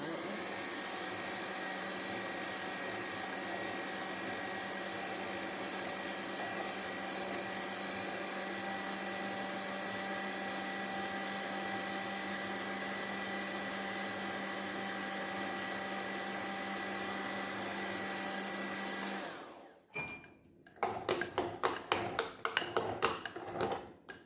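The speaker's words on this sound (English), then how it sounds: "Mix this all up." Fruit cake batter with molasses for a Jamaican Christmas cake is mixed under a steady, even motor hum for about twenty seconds, then the hum cuts off and a brief clatter of utensils and bowl follows.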